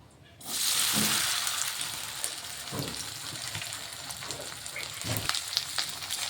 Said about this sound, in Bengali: এখন এখানে আমি একটা কড়াইতে তেল গরম বসিয়ে দিয়েছি আমি এখানে অল্প দিয়ে ভেজে নিচ্ছি